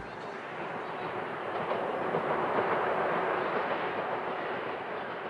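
A train rolls along its rails in Iran, a steady broadband rumble holding at an even level throughout with no distinct clacks standing out.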